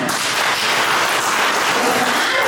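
Loud, continuous clapping from a church congregation during an evangelist's sermon, a thick unbroken roar of many hands close by and with no pauses.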